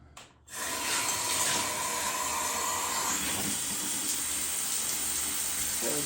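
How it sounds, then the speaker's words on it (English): Steady hiss of water spraying from a newly installed Aquadance shower head, starting abruptly after a brief click and then running continuously and fairly loud, with no talking. "you turn on your water, and let's see what happens."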